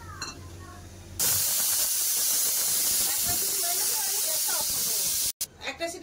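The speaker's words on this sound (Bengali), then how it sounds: "চাপা দিয়ে এবার একটা সিটি মারবো।" Pressure cooker cooking rice lets out a loud, steady steam-release hiss that starts abruptly and holds for several seconds before cutting off, with faint sounds around it.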